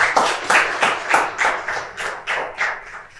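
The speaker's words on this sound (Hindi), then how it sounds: "तो तालियों से स्वागत करेंगे" An audience claps in welcome for a guest at a success-story event, a steady run of hand claps with a rhythmic, slightly uneven pulse, loud and close, with no speech over it.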